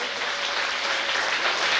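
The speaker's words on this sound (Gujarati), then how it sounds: "હાથ ઊંચા કરી અને જોરદાર તાળીઓથી તેમણે" Children at a school science fair clap loudly together, a dense, steady burst of applause that fills the whole stretch with no voices over it.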